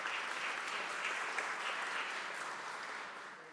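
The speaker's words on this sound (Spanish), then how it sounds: "Un aplauso también para todas y todos ustedes." Seminar attendees at a municipal reform event, including council members, break into dense, steady applause, a continuous wash of clapping that holds evenly and eases slightly toward the end.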